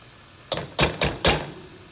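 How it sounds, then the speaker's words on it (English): About two garlic cloves are grated on a hand grater: four quick, close, rasping strokes in a steady rhythm, each clearly separated, against a quiet room. "I'm going to grate some garlic. Got about 2 cloves that I'm going to grate down."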